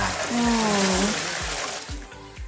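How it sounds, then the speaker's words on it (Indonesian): Soybeans are rinsed with water during tempeh making, with a steady rush and splash of running water and some sloshing, fairly close and continuous throughout. "terus kita bilas lagi pakai air"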